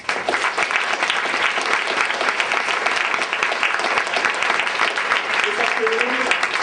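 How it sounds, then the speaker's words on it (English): Audience at an arts faculty internship event applauds its interns and student speakers, a dense, steady round of clapping holding at full strength across the whole stretch with no break. "So please give them all a warm round of applause"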